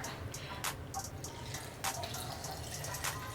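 Gin and juice is poured over raspberries into a glass, a quiet liquid stream broken by a few soft splashes and clinks.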